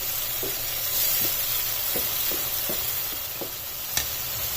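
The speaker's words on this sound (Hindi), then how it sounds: "अब इस टमाटर के पेस्ट को इसमें 2 से 3 मिनट तक कुक होने देना।" Tomato paste cooks in a pan for mutton jalfrezi, giving a steady close sizzle with soft scraping stir strokes recurring about every half second and no talking.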